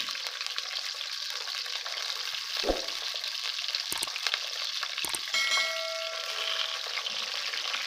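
Eggplant pieces fry in hot ghee with a steady, dense sizzle throughout, close and fairly loud, punctuated by a few sharp clinks of a spoon stirring against the pan.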